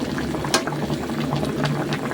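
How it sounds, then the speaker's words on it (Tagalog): A pot of tinola with pork leg, okra and onion leaves bubbles at a steady rolling boil, a dense, continuous gurgle heard up close with no voices. "Bugal-bugal na mga idol."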